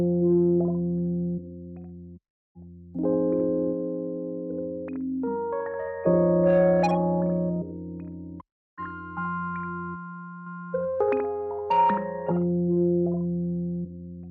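An electric piano runs through a guitar effects chain, its sustained chords coloured with distortion and chorus-like shimmer, playing a slow phrase with brief gaps between groups of notes, alone and fairly soft.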